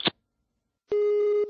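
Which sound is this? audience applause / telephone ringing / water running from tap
telephone ringing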